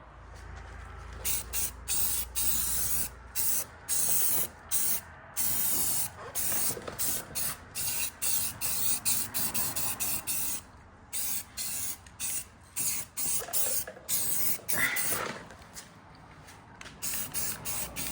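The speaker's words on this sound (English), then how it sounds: "we're just gonna kind of just go ham with some spray paint" Repeated hissing bursts of a spray paint can painting the wheels of a 1979 Ford Econoline E-250, short sprays separated by brief pauses, close and fairly loud throughout.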